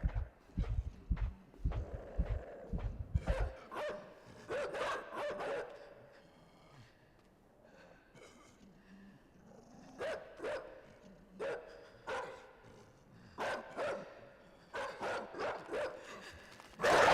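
Dogs bark in the video game INSIDE, with a rapid volley of close, loud barks at first, then repeated bursts of barking and yips spaced across the scene with quieter gaps between.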